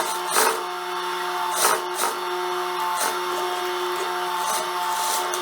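A sewing machine topstitches a pocket on a wide-leg jumpsuit, running as a steady close mechanical whir with a few short bursts, no talking.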